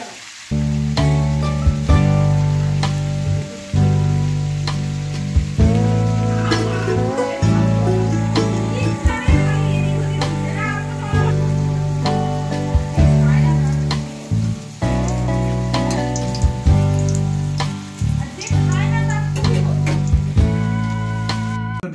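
Loud, continuous sizzling of potatoes frying in hot oil in a wok, with occasional stirring scrapes and a steady tonal hum underneath, holding level throughout.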